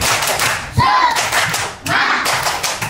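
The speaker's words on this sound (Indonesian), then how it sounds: "sebelum lanjut kita tepuk semangat lagi" A classroom group performs a rhythmic spirit clap led by the teacher, with two bursts of clapping, loud and close, plus a brief voice between them.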